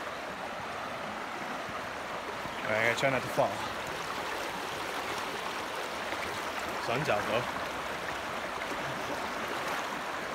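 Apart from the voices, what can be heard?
creek water flowing after a rain storm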